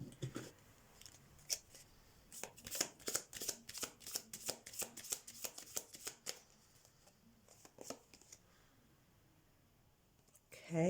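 Tarot cards are shuffled in a run of quick, crisp riffling clicks and flicks, close and moderately quiet, tapering off into a few softer taps with faint background noise.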